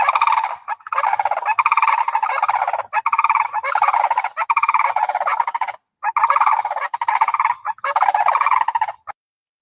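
Sandhill cranes on a golf course call in loud, rattling, rolling bursts, close by and harsh, repeating in long trills with short gaps and no voices.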